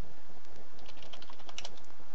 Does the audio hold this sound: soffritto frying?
no